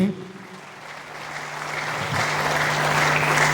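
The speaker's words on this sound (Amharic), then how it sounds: "አጨብጭቡለት በደንብ ለሚኪ" An audience at a graduation ceremony applauds for Miki. The clapping starts moderate and swells louder and fuller, continuing steadily to the end.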